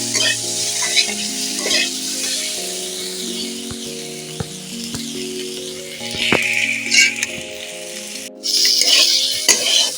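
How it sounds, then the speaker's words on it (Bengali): Turmeric powder frying in oil in a pan while a spatula stirs and scrapes, a steady close sizzle broken by metallic clinks, with soft melodic music underneath. "হলুদ গুঁড়োটাকে এইভাবে নিয়ে একটু ভেজে নেব।"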